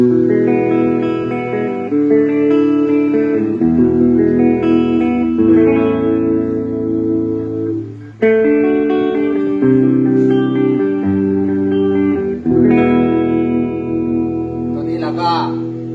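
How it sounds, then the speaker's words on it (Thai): Electric guitar, a Siam LP-style model, played clean through a Fender Champion amplifier: sustained chords and single notes ringing with slight reverb, loud and alone with no talking. "เดี๋ยวเรามาฟังเสียงกรีนนิดนึง"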